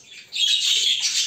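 Budgerigars squawk in a cage, a dense bright burst of shrill chattering calls that swells after a brief quieter start and stays loud and close throughout.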